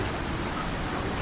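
Steady hiss of heavy rain during a rainstorm in the survival game Icarus, a dense, even downpour with no voices.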